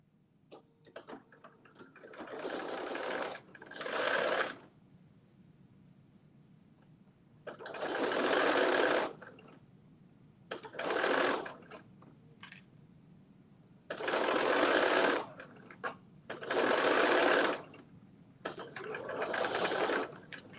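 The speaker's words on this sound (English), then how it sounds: "All right, I am stitching the last side." A sewing machine stitches fabric in repeated bursts of a few seconds each, separated by short pauses and faint handling noises, close and fairly loud with no talk.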